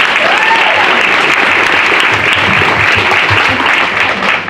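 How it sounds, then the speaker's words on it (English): Audience at a company sales meeting giving a loud, sustained round of applause, dense continuous clapping close by with faint voices mixed in. "Let's give them a huge round of applause"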